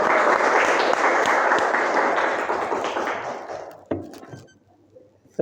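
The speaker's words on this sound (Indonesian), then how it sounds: "Tepuk tangan dulu teman-teman sekalian." Audience applause breaks out at a podcast talk with a medical laboratory technology expert: dense, steady clapping that tapers off around four seconds, leaving a few scattered claps and small knocks.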